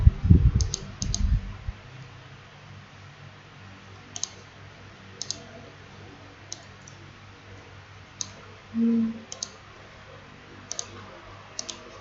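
Sharp, sparse mouse clicks at irregular intervals, single and double, while working in Stata, faint against a quiet room hum with a brief low bump near the start.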